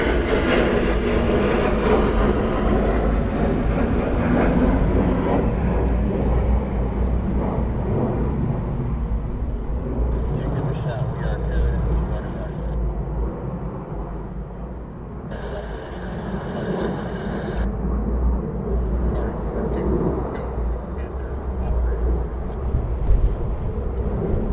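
Two F-15 jets run in over RAF Lakenheath with a loud, continuous roar that holds for the whole stretch and eases slightly in the middle, heard from the ground at a distance.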